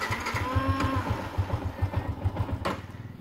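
A Yamaha Exciter or Honda Winner X motorcycle idles close by, its engine thumping in a steady, fast pulsing rhythm, with a brief rattling clack near the end.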